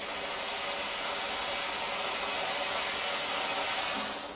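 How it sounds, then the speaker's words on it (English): A Chief Steamer steam gun at full pressure releases a steady, loud, continuous hiss of steam for about four seconds, with no voices. "if I squeeze the steam trigger, we're going to get steam coming out of the gun."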